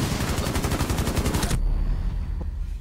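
Fast automatic gunfire in Rainbow Six Siege, loud close rattling shots in an even rhythm for about a second and a half, then cutting off abruptly into quieter game ambience.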